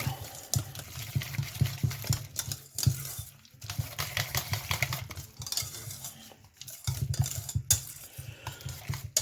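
A spoon stirs diced pickled gherkin with a splash of its pickling vinegar in a bowl, making steady clinking and scraping strokes in an irregular rhythm, close up with no talking.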